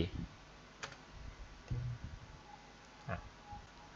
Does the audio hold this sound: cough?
no